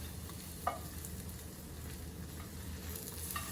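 A tamagoyaki egg fries in a pan as a spatula flips it, giving a steady soft sizzle with a single brief scrape or tap near the start and faint clicks later.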